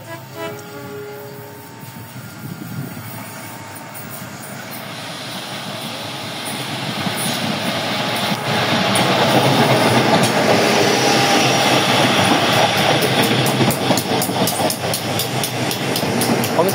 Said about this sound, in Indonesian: Komuter lain Arjonegoro masuk stasiun Surabaya Pasar Turi.